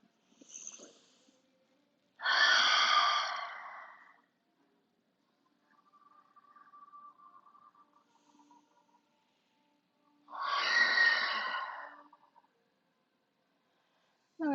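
Slow, deep breathing during a beginner vinyasa yoga practice: two long, loud, breathy exhalations roughly eight seconds apart, with a softer airy breath between them and stretches of near silence.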